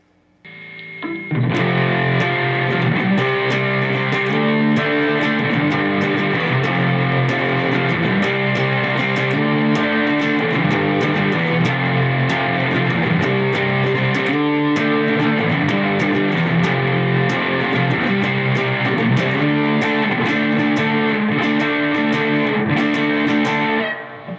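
A heavily distorted electric guitar plays a steady, loud riff of sustained chords throughout, with no voices.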